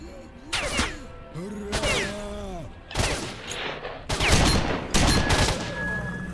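Gunfire rings out in the video game S.T.A.L.K.E.R.: Shadow of Chernobyl as repeated bursts of shots and heavy impacts. A voice talks over the first shots.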